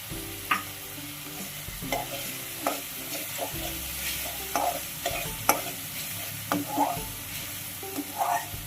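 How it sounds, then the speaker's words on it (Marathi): Chopped tomato with ginger garlic paste sautés in a pan, a moderate sizzle under repeated scraping and clinking strokes of a spatula at an irregular rhythm, no voices. "बारीक केलेला टॉमॅटो आहे तो टाकतोय पुन्हा परतून घेतोय त्यामुळे आता आलं लसूण पेस्ट टाकतोय"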